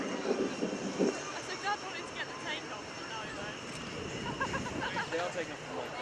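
A Boeing F/A-18C Hornet jet taxis along runway 27 at an airshow, a steady mid-level engine rumble and whine running throughout with a broad crowd murmur and voices mixed in.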